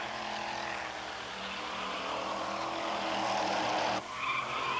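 Race cars roar past on the final lap of a 1987 GM motorsport series race, a distant, continuous engine wash with rising and falling passes and a sudden shift near the end.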